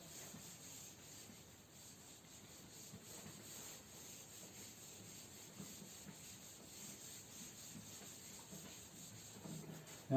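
Continuous soft rubbing as writing is wiped off a board during a maths lesson, a steady, faint scrubbing texture lasting throughout, with no talking.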